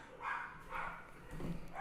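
A dog barks in a few short, evenly spaced bursts at moderate distance, with no voices over it.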